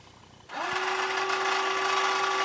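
Electric motor of an OmniBot 2000 robot arm whirs steadily after starting abruptly, a loud continuous mechanical hum with a rising then level pitch as the arm lowers, no talking.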